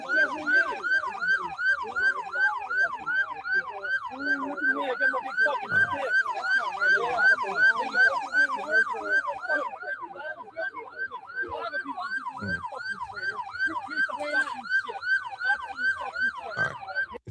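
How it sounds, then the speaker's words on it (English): Emergency vehicle sirens wail in a steady, repeating up-and-down cycle throughout, loud and close, with no talk over them. "I don't like the sirens so loud."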